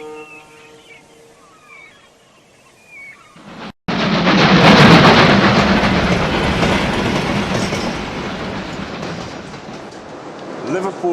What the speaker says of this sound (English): Liverpool Street Station.